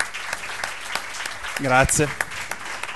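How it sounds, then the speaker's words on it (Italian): Applause from an audience after a talk on a comic-book adaptation of the Divine Comedy, steady clapping throughout with someone briefly speaking over it. "vorrei un grande applauso"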